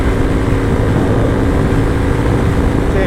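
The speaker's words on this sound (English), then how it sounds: "So the mighty DRZ powers up the hills." A Suzuki DRZ400E motorcycle engine drones steadily and loudly as it climbs hills on a desert crossing, a continuous low-pitched roar with wind rush holding constant throughout.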